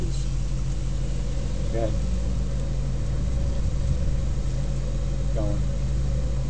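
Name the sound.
Range Rover engine climbing out of a hole off-road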